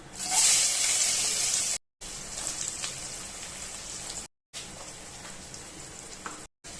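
Sliced big onion hits hot oil with fennel seeds and curry leaves, a bright steady sizzle and crackle, loudest at the start, that continues between brief silent cuts.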